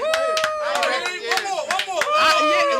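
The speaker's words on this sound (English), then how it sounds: "let's clap it up" A small group of people clapping their hands in quick, sharp bursts, close and fairly loud, while someone talks over the applause.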